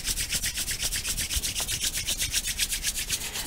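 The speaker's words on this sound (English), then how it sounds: "give them a little rub." Palms rub briskly together in a steady back-and-forth rhythm, a close, soft hissing friction repeating about seven times a second during a yoga grounding practice, with no talking.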